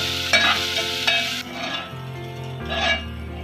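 Finely chopped ginger sautés in a pan, a steady sizzling hiss broken by a few scraping stirs of a spatula, close and moderately loud.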